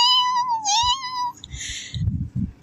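A human voice imitating a tiny kitten's meow: a thin, high, drawn-out mew followed by a short second squeak, then breathy noises and a few quiet murmurs close to the microphone.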